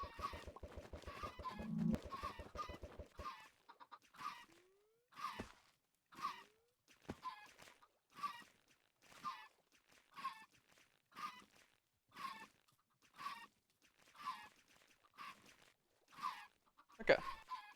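Chickens cluck in the video game Minecraft, a regular series of short clucks repeating about every second alongside a few brief game effects, with a low buzzing tone at the start.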